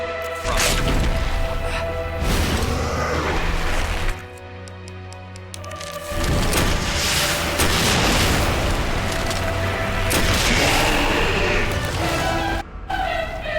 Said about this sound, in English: But we have the fucking missile launcher.